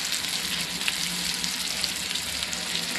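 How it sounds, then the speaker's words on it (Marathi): Chopped onions and tomatoes frying in a pan at home, a steady close sizzle and crackle with occasional pops, no voices. "कांदा टमाटे मस्त असं बारीक होईपर्यंत शिजवून घेऊया"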